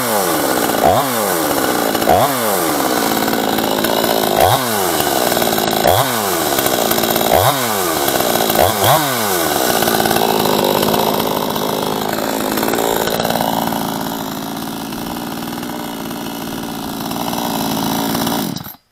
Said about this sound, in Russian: Я сожгу бак бензина и просто буду ее обкатывать на холостом ходу.